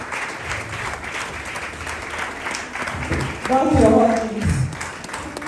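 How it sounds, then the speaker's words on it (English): A seated audience at a university event applauds steadily to welcome a guest speaker to the dais, a dense even wash of clapping with a voice speaking over it partway through. "let us, with a round of applause, welcome our guest speaker to the dais"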